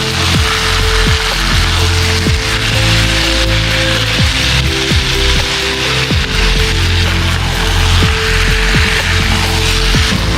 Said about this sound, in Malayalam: അപ്പോൾ ഇതിലിങ്ങനെ നന്നായിട്ട് ഇനി ഇളക്കിയെടുക്കാം.